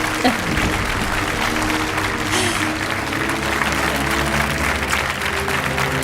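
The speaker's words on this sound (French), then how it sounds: "On va vous applaudir très très fort" Studio audience on a French game show applauding loudly and steadily, a dense continuous wash of clapping with crowd noise and a voice speaking over it.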